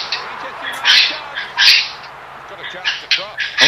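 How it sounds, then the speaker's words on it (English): Pet birds squawk excitedly in loud, sharp bursts, several calls spaced irregularly and close by, with people talking in between. "tell your birds to shut up"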